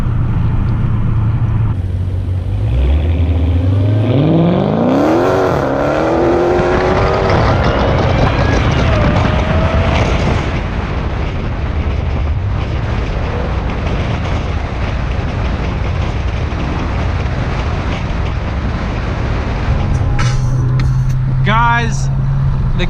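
A Dodge Challenger in track mode tears through canyon roads, its engine roaring loudly and continuously with rising, shifting revs and heavy rumble, close up, with talking over it.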